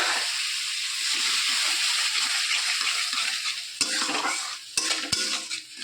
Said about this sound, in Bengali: ভালো করে এবার টক দইয়ের সঙ্গে মশলাটাকেও কষিয়ে নেব তেল ছাড়া অবধি।